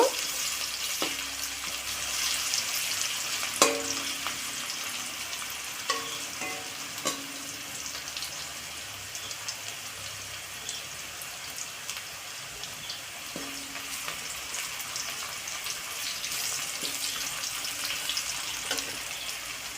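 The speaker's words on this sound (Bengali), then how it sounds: "পেঁয়াজটা ভালো করে ভেজে নেব।" Sliced onion frying in oil in a pan for a Bengali fish curry, a steady hiss with scattered clinks of a spatula stirring against the metal, close and continuous with no talk.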